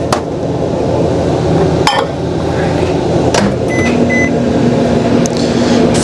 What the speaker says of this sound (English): And I'm going to get this back in the microwave.